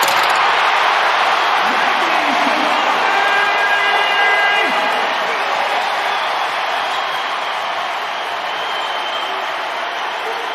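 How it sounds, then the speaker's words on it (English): A huge championship basketball crowd roars in a packed arena, a loud, sustained wash of cheering and applause with a commentator's voice riding over it, easing slightly toward the end. "What an incredible atmosphere for TBT. Biggest championship crowd ever."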